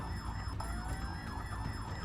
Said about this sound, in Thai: ตอนนี้มีเสียงไซเรนมาด้วย